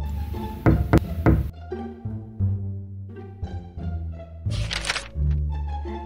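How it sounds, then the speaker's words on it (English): Three quick knocks on a door ring out clearly near the start, followed by bouncy sound effects and musical tones in a children's Easter storybook reading. "Knock, knock, knock."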